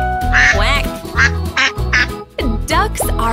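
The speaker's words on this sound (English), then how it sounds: "How do ducks say hello? Quack, quack." Cartoonish duck quacks, a run of bright nasal calls in quick bursts, loud and up front over a children's nursery-song music backing.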